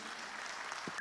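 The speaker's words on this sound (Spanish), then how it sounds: "un aplauso nuevamente para Marlene" A short burst of audience applause for a speaker at a mobile development talk: steady, dense clapping from a crowd that ends abruptly.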